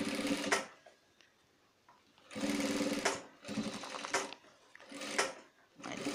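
Sewing machine stitching a shirt, running in several loud steady bursts separated by short quiet pauses, close and alone without talk.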